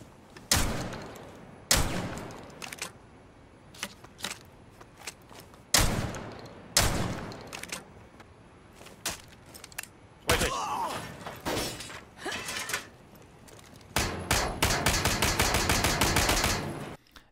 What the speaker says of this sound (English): Vigil shotgun can indeed break plane windows, and it acts like a glass sniper